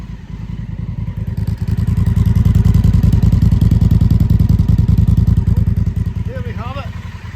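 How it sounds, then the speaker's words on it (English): A 1000cc 2017 Honda CRF1000L Africa Twin with an upgraded aftermarket exhaust revs loudly up close, the engine note climbing and holding high before easing back down, with a short voice near the end. "Let me give the bike a few revs so you can hear how she sounds."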